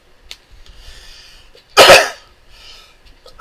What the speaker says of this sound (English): Sorry if I'm coughing a lot.